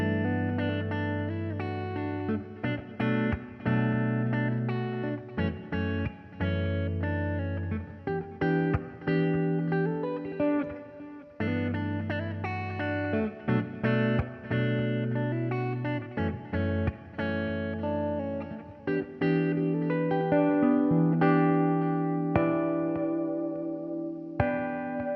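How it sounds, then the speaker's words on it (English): An electric guitar through a simple delay effect plays steady chords and picked notes, each phrase trailing off in soft repeating echoes that smear into the next, loud and continuous throughout. "And last in line, I have a simple delay."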